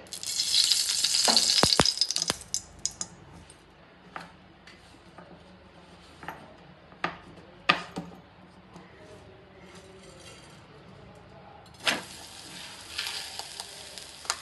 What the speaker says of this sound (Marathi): आता तव्यावर थोडंसं तूप सोडून देते